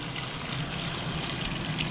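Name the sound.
water being poured into biryani rice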